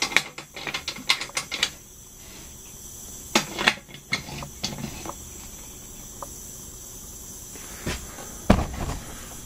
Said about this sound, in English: tighten down the toggle screws